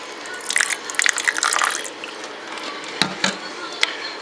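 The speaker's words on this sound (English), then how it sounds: "I'm going to add 2 tablespoons of apple cider vinegar" Apple cider vinegar poured from a measuring spoon into a bowl for jerk chicken marinade, a close splashing trickle lasting over a second, then a few faint drips and small clinks.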